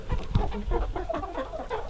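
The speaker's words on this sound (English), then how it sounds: "Oh, and there's all the birds." Several chickens cluck nearby in short, irregular bursts, soft and overlapping, with a few higher squawks mixed in.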